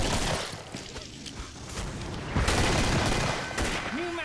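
Rapid gunfire and explosions from the Killing Floor video game, dense overlapping bursts and booms running throughout at close range, with game noise filling the background.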